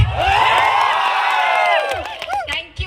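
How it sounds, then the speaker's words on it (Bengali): An audience at a musical night show cheers and screams loudly for Shakib Khan, a dense wash of high, wavering voices that swells and then breaks into scattered shouts. "শাকিব খানের জন্য একটা জোরে করতালি হয়ে যাক"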